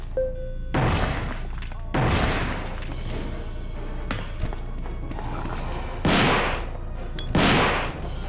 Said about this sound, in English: I'm gonna quick fire this shotgun so fast